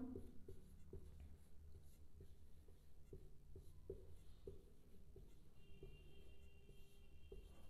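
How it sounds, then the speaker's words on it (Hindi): Pen writing out Ohm's law on paper or a board, a series of quiet, regular strokes and taps spread steadily across the stretch, faint and close, with no talking. "हम लिखते हैं ओम का नियम"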